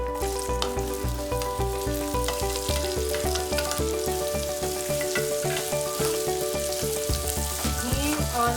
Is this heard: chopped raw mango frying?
yes